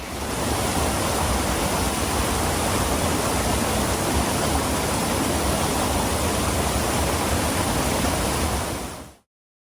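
A waterfall pours steadily into a creek, a loud, dense, unbroken wash of falling water that holds at an even level close by, then cuts off abruptly.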